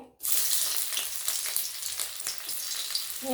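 Chopped onion hits hot oil in a kadai and sizzles loudly and steadily, with a dense crackling hiss that begins abruptly and holds close and even throughout.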